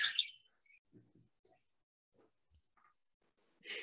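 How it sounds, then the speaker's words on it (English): Birds chirp faintly through a meeting participant's speaker, short bright calls at the start and end with scattered soft noises between. "It's nice to hear the birds, but it might be a little distracting."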